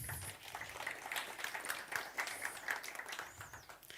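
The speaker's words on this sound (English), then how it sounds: "let's give them a round of applause." Audience applause at an InspireTalk 2023 event greets two introduced guests, a steady crowd clapping held at moderate level throughout with no talk over it.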